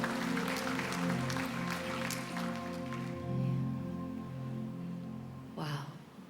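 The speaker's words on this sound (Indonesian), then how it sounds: "Tepuk tangan buat Tuhan kita." A congregation at a worship prayer concert applauds over sustained music: scattered claps for a few seconds, then fading out as the music continues.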